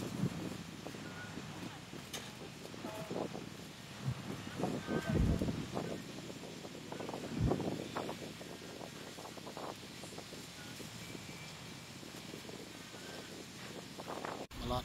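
Wind blows steadily across a microphone on Tanjung Leman beach, a constant rushing bed with gusty swells, while voices talk faintly underneath.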